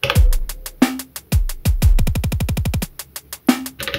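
Elektron Digitone drum pattern from a single track: punchy kicks with pitched tails, then a rapid arpeggiated run of kicks descending in a fast burst before more sparse hits, loud and alone.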